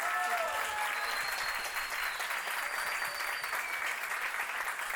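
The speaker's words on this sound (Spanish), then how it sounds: "otro aplauso al equipo de Rutas" An audience at a live public forum applauds the production team, a dense, steady clapping that fills the whole stretch at an even moderate loudness.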